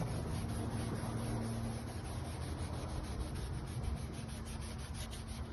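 Steady, even rubbing scrape of 800 grit sandpaper wet sanding a badly oxidized car headlight during restoration, continuous and close with a faint background hum and no talking.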